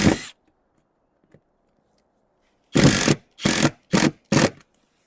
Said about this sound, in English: I'm putting a screw through the wipe so that it'll fasten underneath this side bulb